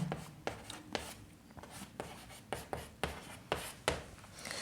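Chalk or marker writes on a board during a maths lesson, giving soft, close scratching strokes broken by about a dozen sharp taps in an irregular rhythm, with no talk.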